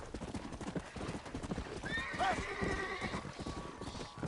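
A warhorse in the video game Red Dead Redemption: Undead Nightmare clops its hooves in a steady rhythm and lets out one clear whinny partway through, close and prominent.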